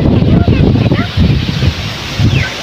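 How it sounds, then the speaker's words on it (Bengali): Strong gusty wind blows through a flooded village with palm trees before a storm, making loud, rumbling microphone buffeting in repeated surges, with a voice talking over it. "কি হাওয়া দিচ্ছে, ঝড়টা উঠবে"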